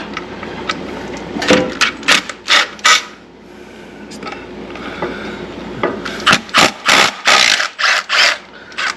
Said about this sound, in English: let's see what I can do about getting some of these bolts out